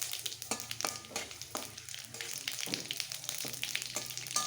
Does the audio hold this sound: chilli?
yes